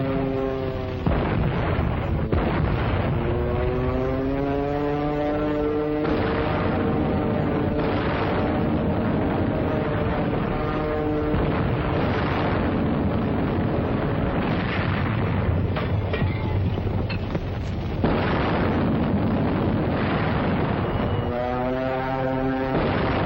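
Wartime jungle battle along the Stilwell Road in 1945, with heavy booming gunfire and explosions rumbling continuously and loudly, mixed with a droning engine-like tone in an old film soundtrack.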